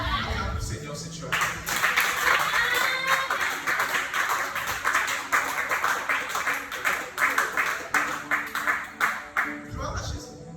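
A church congregation claps together in a steady rhythmic beat, loud and close, with voices and cheers mixed in, fading out near the end.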